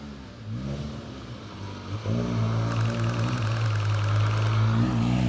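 A vintage car engine, of 1939 vintage, revs hard at a hill climb, its note swelling and climbing in pitch as it pulls away close by, loud and alone.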